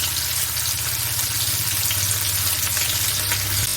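Fish coated in masala frying in hot oil in a Kerala home kitchen, a steady close sizzle and crackle running continuously with no talk.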